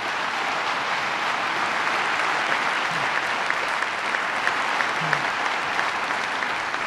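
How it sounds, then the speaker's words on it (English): Steady audience applause at a governor's economic development announcement, a large crowd clapping evenly and continuously at moderate loudness, with a few louder claps popping out near the end. "So let's give them all a round of applause."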